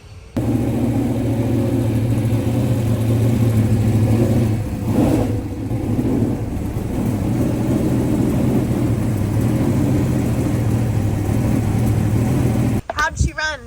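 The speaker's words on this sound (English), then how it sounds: "Race cars." Dirt track race car engine droning and revving steadily at the Charlotte dirt track, a loud, sustained mid-pitched roar that swells and eases slightly before cutting off near the end.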